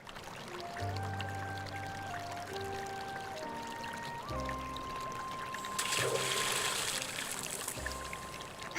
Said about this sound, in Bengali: পুরো চালের বস্তা নদীতে পড়ে গেল।